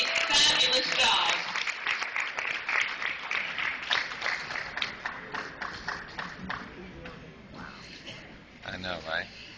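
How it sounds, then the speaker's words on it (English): An audience at a pageant claps for the contestants, a dense burst of applause that is loudest at the start and thins into scattered individual claps, with a voice speaking over it. "let's give all of our contestants a big round of applause."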